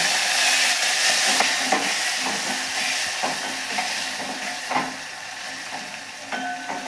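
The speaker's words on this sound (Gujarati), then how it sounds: "હવે આપણે આને અડધી મિનિટ સુધી ટામેટાને આ તેલની અંદર સતળાવા દઈશું" Tomatoes sauté in hot oil for a Gujarati sweet-and-sour dal, a steady close sizzle with faint clicks and occasional stirring scrapes, and no voices.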